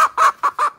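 An Aseel hen squawks while being caught, four loud, harsh, rapid clucks in quick succession, close to the microphone.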